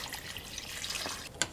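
Cold water running from a tap into a stock pot of vegetables, a quiet steady hiss with a few light splashes and a sharper drip near the end, short and fairly close.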